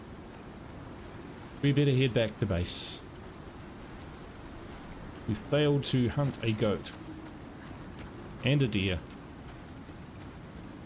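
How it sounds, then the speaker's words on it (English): Steady rain falls in the survival video game ICARUS as a constant soft hiss, while someone talks in short bursts over it. "Alright, the rain's here, so we better"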